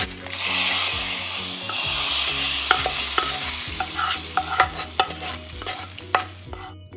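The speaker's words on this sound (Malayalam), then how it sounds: "ഇതിട്ട് നമുക്ക് നന്നായിട്ടൊന്ന് മിക്സ് ചെയ്യാം" A spoon stirs a chili powder mixture for fish curry in a sizzling pan, scraping steadily with a few sharper clinks against the pan over a continuous frying hiss.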